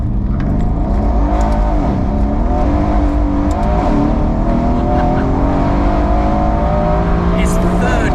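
An 830 BHP Mercedes C63 AMG accelerating hard, heard from inside with a loud engine roar whose pitch climbs and drops across gear changes. People talk over it.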